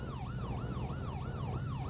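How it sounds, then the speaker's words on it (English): A video game ambulance siren wails, sweeping up and down in a fast, regular cycle, continuous and fairly faint, with no talking. "This siren's too loud."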